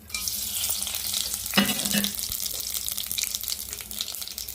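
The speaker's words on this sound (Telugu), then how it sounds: "ఆయిల్ అయితే వేడింది కదా ఫస్ట్ పలావ్ దినుసు వేసుకుందాం" Whole pulao spices crackle and sizzle in hot oil in a kadai, a steady loud frying hiss running throughout with a brief sharper burst midway.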